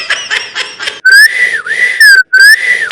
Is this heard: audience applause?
no